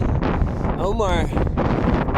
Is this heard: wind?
yes